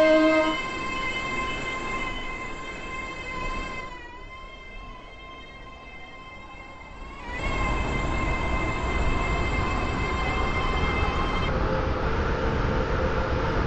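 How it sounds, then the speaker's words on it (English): A Class 802 train pulls into a platform in the Roblox railway game Stepford County Railway, its steady electric traction whine and rolling rumble holding loud throughout, dipping briefly midway before swelling again. "The train now approaching Platform 5 terminates here."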